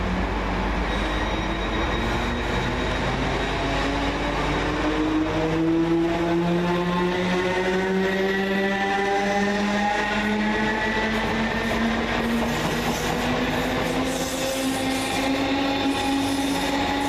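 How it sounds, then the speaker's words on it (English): Two coupled Greater Anglia Class 317 electric units, 317343 and 317337, pull out of Tottenham Hale station on the Stratford to Bishop's Stortford service. A steady loud rumble runs throughout, with rising motor whine and rail squeal, and no talking. "Next out, 317343 and 317337. Working the 1543 Greater Anglia service from Stratford to Bishop Stortford."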